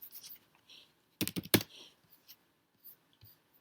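A few quick clusters of computer keyboard keystrokes, close and crisp, with a dense burst of tapping in the middle and scattered light clicks around it, no talking.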